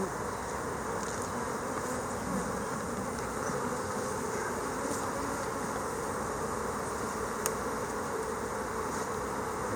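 Honey bees buzzing at an open hive during a queen-cell inspection, a dense continuous drone of many insects close to the microphone, steady throughout with one faint click and no talking.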